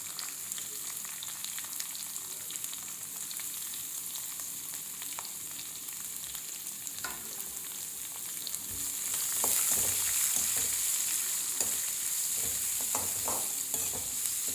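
Onions and green chilies frying in a pan for breadfruit upma, a steady broadband sizzle with occasional stirring scrapes, growing slightly louder and denser partway through, with no talking.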